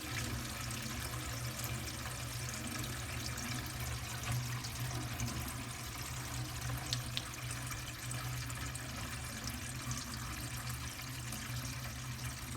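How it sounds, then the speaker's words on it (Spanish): Water draining steadily through a newly installed bathroom faucet and sink drain, a continuous rushing flow with a low gurgle that runs unbroken for the whole stretch. "Por último vamos a drenar el agua."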